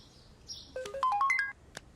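A short electronic phone ringtone plays a quick rising run of bright chiming notes, followed by a single sharp click in an otherwise quiet room.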